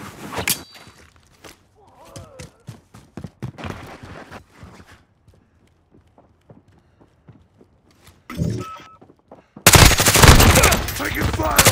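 Gunfire in Call of Duty: Modern Warfare cracks in scattered single shots and short bursts, then erupts into a loud sustained barrage near the end, with brief voice callouts.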